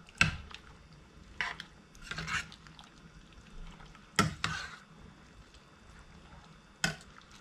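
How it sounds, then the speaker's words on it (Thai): Mushrooms are stirred with curry paste in a cooking pot while the mix fries, and several sharp scraping strokes rise over a soft, low sizzle. "เอาเห็ดใส่ลงไปเลยแล้วก็จะเอาเห็ดตัวนี้ใส่พริกแกงใส่ลงไป"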